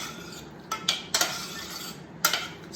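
A utensil stirring tomatoes into warm balsamic vinaigrette in a pan, a few distinct clinks and scrapes of metal against the pan spaced irregularly over a quiet background.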